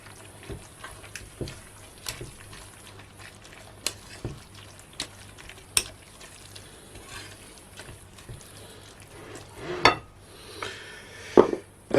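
A spoon stirs pumpkin pie filling in a bowl, giving soft repeated scrapes and occasional sharper clinks of utensil against the bowl, fairly quiet throughout.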